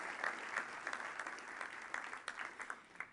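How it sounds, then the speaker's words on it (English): An audience at Magento's Imagine Conference 2011 keynote applauds, a full crowd clapping steadily with sharp individual claps poking through for about three seconds, no speech on top. "That definitely deserves a round of applause."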